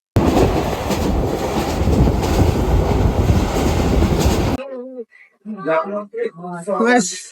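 Train at Laksam junction railway station: loud rolling rumble and clatter of railcars for about four and a half seconds, then it cuts to a person talking with the train noise gone.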